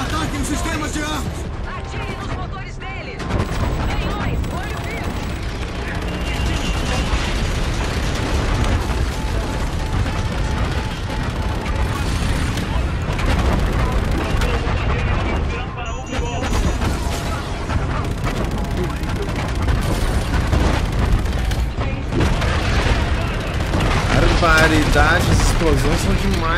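Call of Duty: Infinite Warfare battle sounds with explosions and gunfire: dense, continuous loud booms, shots and crashes throughout, mixed with someone talking over the action.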